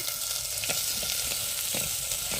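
Onions and ginger-garlic paste sizzle and fry steadily in a hot pan, a dense close hiss with faint stirring scrapes and no voices.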